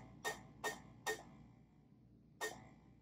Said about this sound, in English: I'm going to do 5 clicks first and then 1 click.